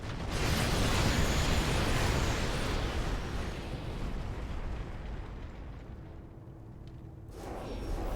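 Massive orbital weapon strike explosions from the Spear of Adun in StarCraft 2, a loud sustained roaring blast that rumbles for several seconds, thins out, then swells again at the end.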